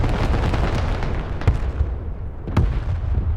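An artillery barrage in the video game Broken Arrow rumbles continuously as a dense wall of explosions, with two sharper, louder blasts standing out partway through.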